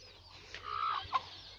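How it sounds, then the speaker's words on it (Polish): A broody hen with chicks clucks softly in short bursts, with a couple of brief higher calls, fairly close against a quiet background. "No tutaj sobie chodzi kwoka z kurczakami."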